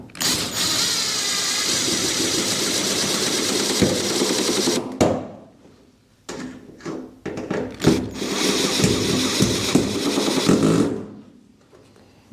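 A power drill drives screws into a large test boat, whirring loud and close in two long runs broken by brief pauses, gripping, and ratcheting clicks, then winding down.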